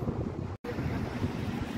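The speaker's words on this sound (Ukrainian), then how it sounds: "Сьогодні вітряно" Wind near a waterfall roars steadily as a broad, dense rush buffeting the microphone, with a brief dropout partway through and no voices.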